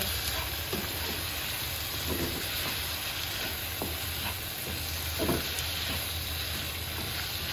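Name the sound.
stirring meat with garam masala in a pan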